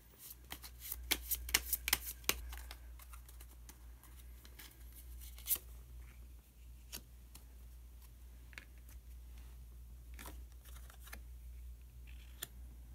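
Tarot cards being shuffled and drawn during a reading: a quick burst of riffling card clicks up close, followed by scattered single snaps and slides as cards are laid out, with no talking.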